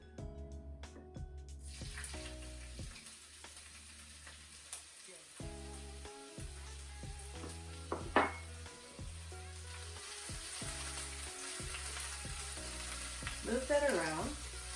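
A tablespoon of finely crushed ginger frying in warm cooking oil in a pan, a steady sizzle broken by stirring clatters and utensil knocks, with no talk.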